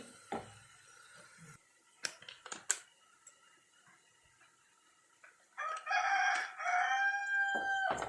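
A rooster crows loudly nearby, one long drawn-out call near the end, following scattered clicks and knocks in a quiet setting.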